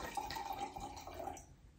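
A drink is poured into a glass, a steady liquid trickle and splash running for about a second and a half before fading, close up and alone.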